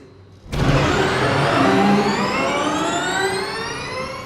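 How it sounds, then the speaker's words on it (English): A sudden high-pitched electric whine kicks in and sweeps steadily upward in pitch as an electric race car accelerates hard, loud and sustained with no engine rumble. "hearing that electric acceleration is exciting in its own right."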